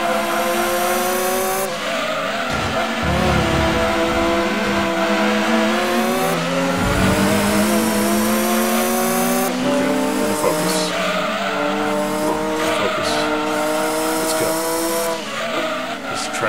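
Race car engines in the Gran Turismo 2 video game, including a Dodge Viper and a GT40 race car, loud and continuous, with rising and falling revs through gear shifts and repeated tire squeals.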